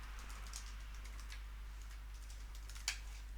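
Quiet keystrokes tap out a code comment on a computer keyboard in irregular bursts, with a sharper key click near the end, over a low steady hum.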